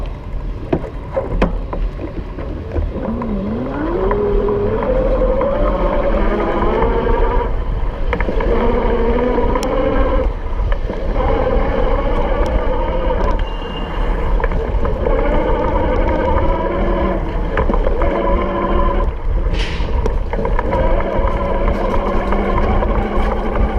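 A Schwinn Monroe 350 e-bike ridden fast with the camera mounted on the frame at the seat post, a steady rushing wind-and-motor drone with rising whine as it speeds up, plus occasional braking and rattle.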